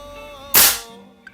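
A single .22 caliber FX Wildcat Compact air rifle shot, a sharp close crack that fades quickly over a quiet background, with a faint tick just after.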